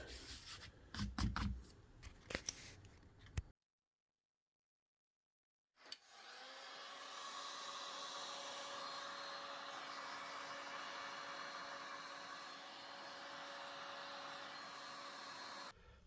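Heat sealing a foam bass guitar prop with a hot-air tool gives a steady, loud blowing whir that runs unbroken for about ten seconds. It follows brief scraping and rubbing and a short silence.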